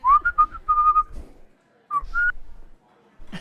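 A person whistles a jaunty, bouncy tune in quick, clear, bright notes, close and loud, pausing briefly before a few more notes, with a short vocal sound at the end.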